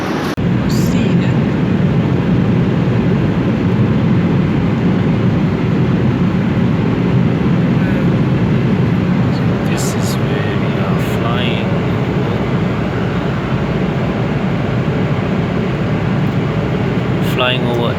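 Steady, broadband airliner cabin roar in cruise flight over Alice Springs, a constant droning hum that fills the whole stretch, with a few faint brief clicks and thin tones near the middle.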